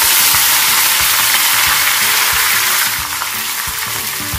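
Mustard seeds, dried red chillies and curry leaves sizzle in hot oil for an idli sambar tempering. The frying is a loud, steady hiss with faint crackles and pops running throughout.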